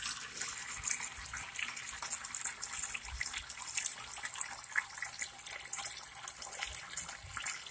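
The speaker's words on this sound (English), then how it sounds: "the reason why I'm filling this bucket up with water" Steady running water from a tap pours into a bucket, a continuous bright splashing rush with no talking.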